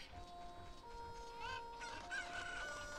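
Chickens in Zelda: Ocarina of Time crow and cluck in shrill, tonal game calls, rising and bending pitches layered over faint background music, fairly close.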